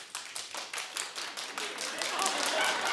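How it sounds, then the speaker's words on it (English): An audience claps in response to a show host's prompt, starting as scattered, distinct claps and building into a steadier, fuller round of applause over a few seconds. "clap if you watched season 2 finale last night"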